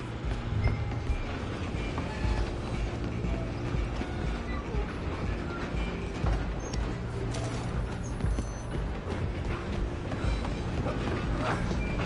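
A train runs in the video game Red Dead Redemption 2, a steady rumbling roll with rattling carriage clatter that continues throughout, close and fairly loud, with shouting voices mixed in.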